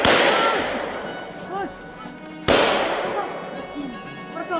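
Gunfire from Polish border guards at the border wall with Belarus: two sharp, loud cracking bursts about two seconds apart, each ringing out and decaying, with faint voices and shouting in the background.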